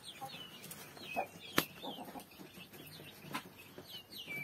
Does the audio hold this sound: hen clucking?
yes